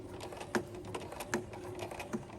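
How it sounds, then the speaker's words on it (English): A sewing machine stitches forward along a zipper during topstitching, making a steady run of close mechanical clicks with regular louder beats, near and alone. "We're going to begin by sewing forward just a little bit,"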